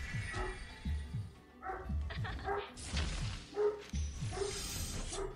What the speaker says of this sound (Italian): Oh mio Dio, che c'ha il cane?